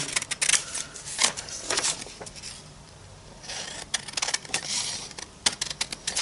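Scissors cut circles of mixed media art paper into tags, with close, crisp snips and papery rustling coming in quick irregular bursts.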